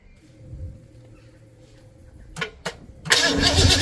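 Starter motor cranks a 1974 Ford 302 V8 in two short bursts, then the engine catches and roars loudly and steadily, close by.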